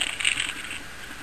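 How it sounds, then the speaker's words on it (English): Notebook paper pages being crumpled by hand for campfire tinder outdoors in the woods, a close crinkly rustle that starts louder and fades to a softer crackle. "So these are just some pages out of my own notebook. So just going to crumple them up."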